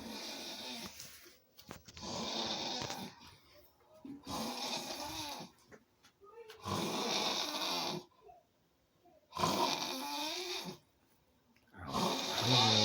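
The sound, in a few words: person snoring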